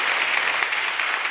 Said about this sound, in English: Give yourselves a round of applause for Making It Out.